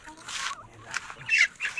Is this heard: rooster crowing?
yes